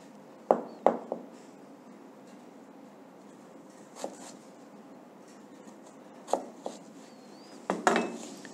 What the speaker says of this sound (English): So our potatoes are cut,